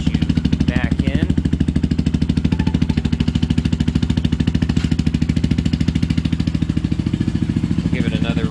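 Motorcycle fitted with a Pipe Werx exhaust, its engine pulsing in a steady, rapid rhythm close by throughout, with brief voice sounds over it.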